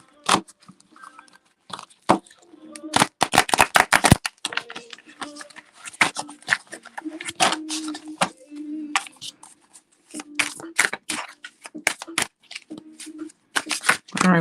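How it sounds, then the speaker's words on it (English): Repeated quick riffling and snapping of tarot cards being shuffled, in short bursts with soft handling sounds between them, close up. "Let me shuffle these good because I didn't shuffle these all at the beginning."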